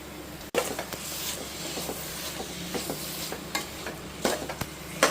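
Chicken being stirred into sizzling masala in a pot over a low flame, a steady frying hiss broken by repeated scraping stirs and a sharp knock near the start.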